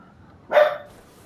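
A farm dog named Max lets out a single short, fairly loud bark in a quiet garage setting, with faint background hum before and after.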